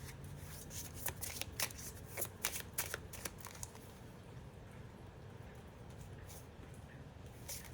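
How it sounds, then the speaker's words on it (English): Oracle cards from an Archangel Animals deck being shuffled by hand, a run of crisp riffling bursts in the first half that eases into softer, quieter card rustling, close and alone without talk. "I'm just going to pull a quick oracle card for advice."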